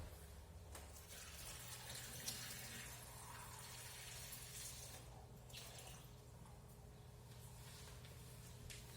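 Room-temperature water pouring steadily into a measuring cup for pizza dough, a soft continuous splashing stream from a kitchen tap, faint and close, no talking.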